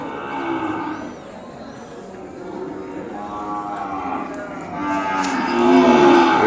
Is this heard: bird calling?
no